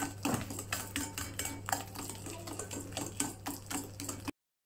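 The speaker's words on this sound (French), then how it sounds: "Donc je mélange assez rapidement pour détendre le chocolat qui est un peu dur." Fast scraping and clinking of a whisk or spatula in a bowl, stirring slightly hard melted chocolate for magnum cakes, a steady rapid rhythm of close strokes with a low hum underneath, ending in a brief silence.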